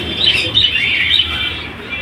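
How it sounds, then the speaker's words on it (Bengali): Male and female pigeons at a bird sale in Beldanga, several short chirping calls in quick succession, close and fairly loud, with no talking. "এই যে নর পায়রা, এটা মাটি পায়রা।"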